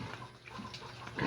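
A mother pig lets out a few soft, short grunts, faint and close, with low background rustle.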